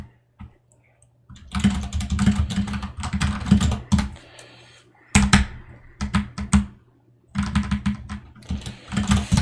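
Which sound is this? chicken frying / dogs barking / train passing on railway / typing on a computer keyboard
typing on a computer keyboard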